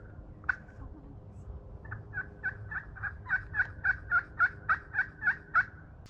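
Wild turkeys gobbling from roosts up in oak trees at bright morning light: a series of about twelve rapid, rattling gobble calls spaced evenly over several seconds, growing louder, heard at middle distance over a low background hum.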